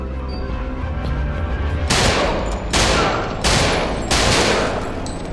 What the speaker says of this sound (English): Shot them all.